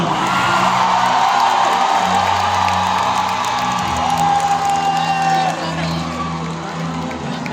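A large audience at the Anugerah Juara Lagu 40 awards show applauds, whoops and cheers for a performer, loud and sustained with a voice talking over it and backing music, easing off near the end.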